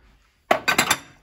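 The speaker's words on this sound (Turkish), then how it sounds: "Bulaşıkları makinemi yerleştireyim, boşaltayım." Dishes are loaded into or unloaded from a dishwasher in a home kitchen, a quick burst of four sharp clinks and clatters close by after a moment of near silence.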